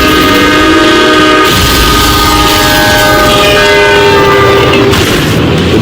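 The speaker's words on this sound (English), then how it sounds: "The train is just seconds away" A northbound train nears a crossing, its loud horn blaring in long sustained tones over the rumble and clatter of the rail cars, very close and overwhelming.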